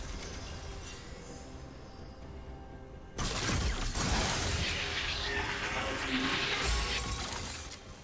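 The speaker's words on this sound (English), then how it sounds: "Red team's turret has been destroyed." A turret in League of Legends breaking apart with a loud crumbling, shattering burst that starts abruptly partway through and rumbles on amid busy game effects.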